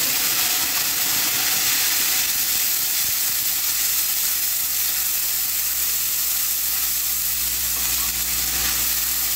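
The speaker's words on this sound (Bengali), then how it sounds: "তো আগে মাছটা বসিয়ে দিলাম, সকল মশলা দিয়ে একটু কষিয়ে নিচ্ছি" Fried fish sizzling with spices in a pan, a loud, unbroken frying hiss close up, with faint stirring underneath.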